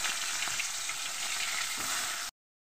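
Pieces of sea fish fry in hot oil with a dense, close, steady sizzle that stays even throughout and then cuts off abruptly near the end.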